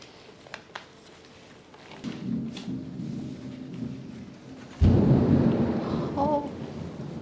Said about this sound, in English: that sounded like it hit something, that lightning